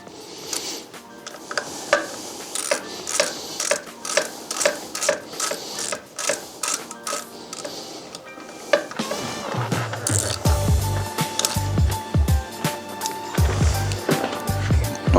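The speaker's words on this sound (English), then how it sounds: "we can go ahead and tighten down the backside pinch bolts here" Metal tool clicks and rattles while the front fork pinch bolts are tightened on an Arctic Leopard bike's front wheel: a close run of sharp, irregular ticks, followed by a denser stretch of knocks over a low hum.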